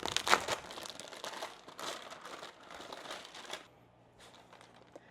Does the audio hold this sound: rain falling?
no